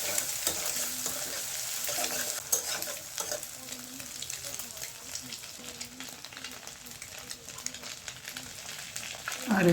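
Chopped tomato sizzles in a pan with noodles, a steady bright frying hiss with scraping stir strokes throughout, close and fairly quiet, with a voice faintly in the background.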